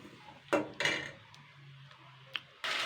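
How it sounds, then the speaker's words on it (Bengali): Masala is stirred in a pan while cooking a paneer dhoka dish, giving a few sharp spoon-on-metal scrapes and clinks, sparse and close, with a quiet sizzle between. "মশলাটা কষিয়ে নেবো ভালো করে।"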